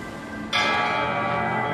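A bell rings in the horror video game Layers of Fear 2, a sudden bright strike after a quiet hum, followed by a sustained shimmering resonance that lingers to the end.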